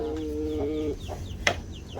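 Chickens cluck in a backyard coop area, a series of short close clucks with one sharper squawk, heard over faint background hum.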